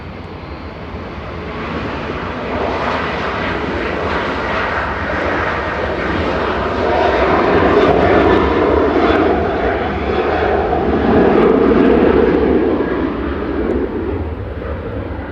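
An 18-year-old Jet2 Boeing 737-800 departs Manchester Airport, its engines a loud, broad, continuous roar that swells gradually and stays heavy throughout.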